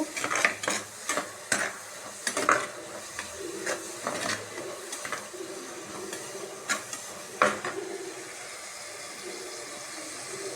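Tomatoes and onions sautéing in a pan for a prawn gravy, a soft continuous sizzle under repeated close scraping and clattering stirs that come in bursts, loudest early and spaced out later.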